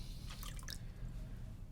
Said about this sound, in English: So I'm going to add a little extra water here.